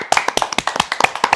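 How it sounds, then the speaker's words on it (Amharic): A small audience claps hands in applause, a close run of quick, uneven claps lasting over a second, with no talking. "አጨብጭቡና አጽድቁልኛል።"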